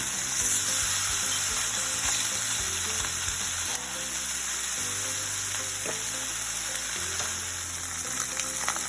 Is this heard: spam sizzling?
yes